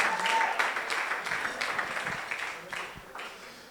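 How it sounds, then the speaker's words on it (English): An audience at Meir's bar mitzvah breaks into a big round of applause, dense clapping that starts loud and gradually fades, with a voice heard briefly over it. "So I want a big round of applause for Meir."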